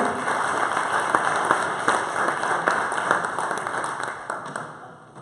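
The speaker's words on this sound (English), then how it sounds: "So let's give him another round of applause." Steady, dense applause from a conference audience for a software talk continues throughout at close range, tapering slightly at the very end.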